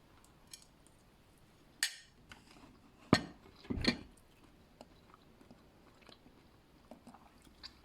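Someone eating a meal of rice, with a few sharp bites and crunchy chews scattered across quiet room tone, plus faint clinks, close and alone without talk.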